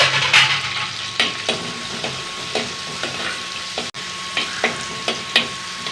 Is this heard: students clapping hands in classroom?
no